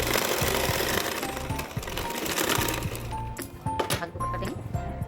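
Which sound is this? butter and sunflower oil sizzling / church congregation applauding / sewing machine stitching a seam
sewing machine stitching a seam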